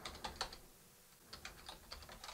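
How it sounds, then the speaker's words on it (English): Soft clicks of typing on a computer keyboard come in two quick bursts with a short pause between, close and quiet. "And then I'm going to type in here"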